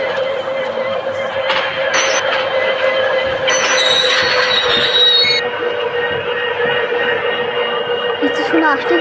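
A train in the Train Simulator Bangladesh video game runs steadily with loud continuous rumbling and clattering, wheel squeal rising near the end, and a crowd murmuring in the background.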